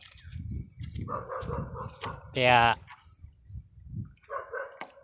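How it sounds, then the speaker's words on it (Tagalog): A dog gives a short burst of barks, followed by a few more yelps, while a person talks nearby amid deepening floodwater. "Yan na yung aso namin."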